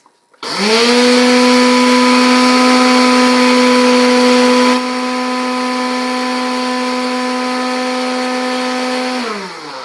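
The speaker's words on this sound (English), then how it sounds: "I literally just put them in my little blender cup like this and pulse them for like a minute." A small personal blender cup grinds oats into oat flour, with a loud, steady high-pitched motor whine that starts abruptly, runs continuously for about nine seconds, drops slightly in level halfway, then winds down.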